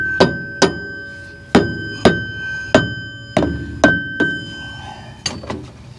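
A hammer taps a part back onto a mini excavator track, about eleven sharp, ringing metallic strikes in an uneven rhythm, close and loud with no talking.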